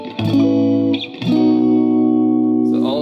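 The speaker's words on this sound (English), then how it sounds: "And then the plate setting." Electric guitar played through a reverb pedal on its plate setting, two sustained strummed chords ringing with a smooth, shimmering decay, close and loud with no talking.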